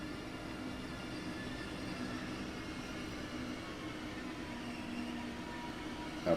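In the Train Sim World 3 video game, an ICE1 high-speed train runs into a station with a faint, steady low rumble and hum throughout, ending in a brief click.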